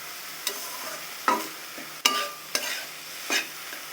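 Close sizzling of dondakolos (Leucas) leaves frying in a pan, punctuated by several sharp scrapes and knocks of a spatula stirring, about five strokes over a few seconds.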